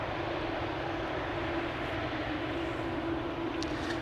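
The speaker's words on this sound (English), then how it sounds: "Another one of those 787-10s is coming this way." A KLM Boeing 787-10 jet airliner at Amsterdam Schiphol gives off a steady, broad engine roar, moderately distant and continuous, with no talk over it.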